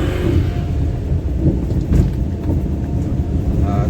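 A car engine held at high revs in second gear, around 3500–4000 RPM at about 40 km/h, drones steadily inside the cabin with rumbling road and wind noise.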